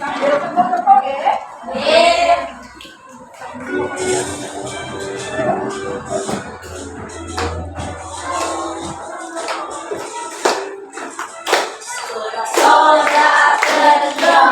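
Children in an Indonesian classroom clap their hands along while singing a patriotic song together, with steady rhythmic claps under the group voices and some shuffling and chatter.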